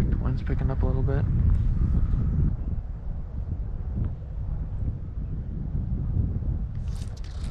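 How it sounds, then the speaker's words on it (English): Gusty wind buffets the microphone on the seacoast during fly fishing, a steady low roar throughout, with someone talking briefly over it near the start. "Wind's picking up a little bit."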